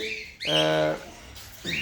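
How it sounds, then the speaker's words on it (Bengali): Three baby pet birds chirp inside a box: two or three close, high, drawn-out calls with clear bird cries, loud and near, with no talking over them. "পাখির নয়েজটা আপনারা অনেকদিন যেমন শুনতে পান না"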